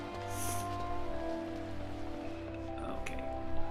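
Steady rain falls in Gridania, the forest city of Final Fantasy XIV, a soft continuous patter running under faint game ambience.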